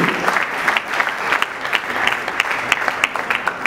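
Audience at a book launch event applauding a pastor called to the podium, a close, lively patter of many hands clapping throughout with sharp individual claps standing out.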